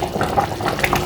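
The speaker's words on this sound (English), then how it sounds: "So I'm gonna add my pepper puree" Pepper puree pours into a pot of yam porridge with a soft, steady liquid splashing and bubbling for about a second, close and moderately loud, with no talking.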